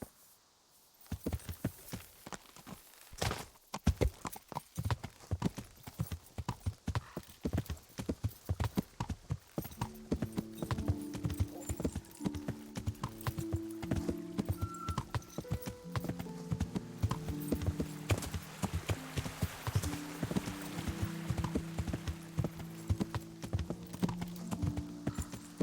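Horse hooves trot in a steady clip-clop rhythm in the video game Kingdom Come: Deliverance, close and fairly loud, with a musical score rising underneath partway through.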